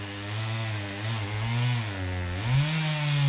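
A ported Husqvarna chainsaw, used to clear snags and small trees for a cabin site, revs loudly and close by, its pitch wavering and then climbing sharply near the end.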